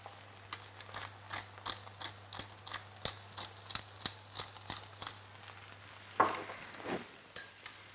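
Halibut fillet fries in a pan with a steady sizzle under a low hum, punctuated by regular clinking stirring strokes and a louder scraping burst near the end; no talking.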